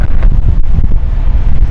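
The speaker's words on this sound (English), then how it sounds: "It's getting very windy" Strong gusts buffet the microphone at an airport, a loud, rumbling low roar that swells and dips in waves with no voices.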